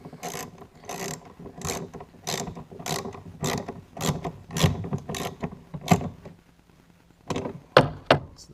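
A socket wrench ratchets on a Quicksilver 3000 throttle bolt on a Ranger bass boat, sounding in bursts of rapid metallic clicks with short pauses between strokes and no talking.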